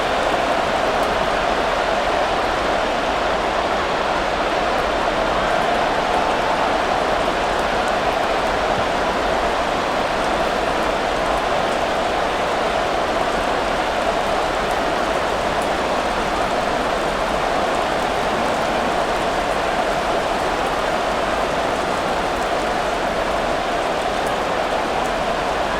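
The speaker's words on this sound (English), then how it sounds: "The rain set to continue as we are underway in the second half." Steady, heavy rain pours throughout a rainy-weather American football game between the Baltimore Ravens and Pittsburgh Steelers in Madden NFL 24, a dense, even hiss with no pauses or voices.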